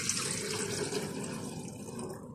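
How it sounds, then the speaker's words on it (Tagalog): Water is poured for morning coffee, a steady hissing, splashing stream that stays close and fairly quiet throughout, with no talk over it. "salin ko lang yung tubig."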